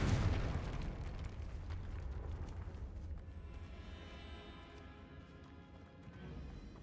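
A Confringo fire spell explodes in Hogwarts Legacy on PS5 with a muffled boom at the start that fades into a low, rumbling decay and faint crackles.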